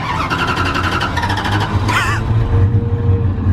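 A car engine runs loudly and close by at a car meet, rumbling at idle with a brief rising rev partway through.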